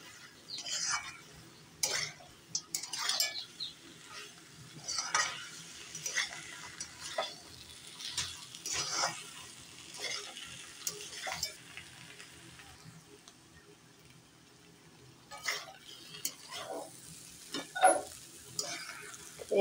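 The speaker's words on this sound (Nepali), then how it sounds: "एकछिन चाहिँ म यसरी भुट्छु" Soybean and potato curry fries and is stirred in a pan at home, with an irregular pattern of scraping strokes and clinks over a soft, steady sizzle, close and moderately loud, with brief pauses and a burst of stirring near the end.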